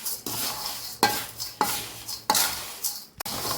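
Spoon stirring a hot mix of dal, rice, semolina and poha in a pot, with repeated scraping strokes and a light sizzle, close and loud with no talking.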